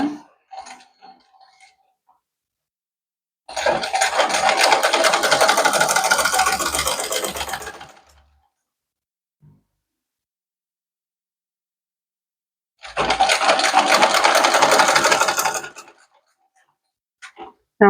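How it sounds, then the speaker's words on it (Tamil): A sewing machine runs in two bursts of several seconds each, stitching a folded seam on a chudidar zip, a close rapid mechanical whir separated by quiet pauses with faint handling clicks. "மடிச்சுட்டு இப்படி ஒரு தையல் போடுங்க"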